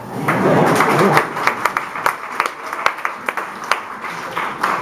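Scattered clapping from a small audience at a political debate in Woodstock, New York, a burst of claps that thins into a few sharp, irregular hand claps.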